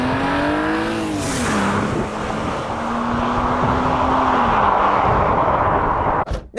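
Engine of a used BMW M3 with 152,000 miles revving hard in repeated surges, loud and close, with the pitch climbing and dropping before cutting off abruptly at the end.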